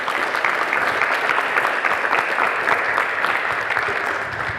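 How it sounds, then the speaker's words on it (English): Audience applause for a trip coordinator at a peer mediation students' event, with dense, steady clapping filling the whole stretch at close range and no break in the sound. "if everyone can give a round of applause for Ms."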